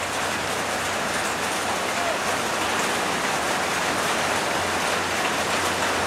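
Heavy rain pours steadily and loudly without a break, a dense broadband wash of downpour sounding close by, with no voices heard.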